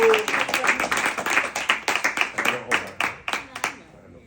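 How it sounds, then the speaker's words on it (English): Scattered hand claps from a small audience, loud and close at first, thinning into a few separate claps before fading out, with voices talking over the start. "Let's give him a round of applause."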